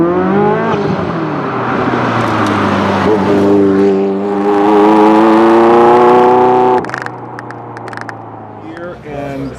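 A Ferrari F40 engine revs loud and close, its pitch climbing and holding a strong harmonic drone for several seconds before dropping off, with voices briefly audible over it.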